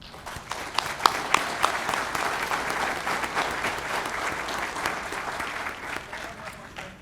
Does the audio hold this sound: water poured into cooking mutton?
no